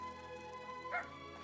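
A dog in the Roblox game Grow a Garden lets out a short, bright bark or yip over a steady background of game music, brief and moderately loud.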